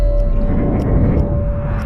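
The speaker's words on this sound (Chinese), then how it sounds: "亚瑟开启之后，放大听可以隐约听到钟表滴答声" Arthur's Dead Eye activating in the video game Red Dead Redemption 2, a dense muffled low rumble with a steady tone and faint, regularly spaced ticks like a clock, heard alone.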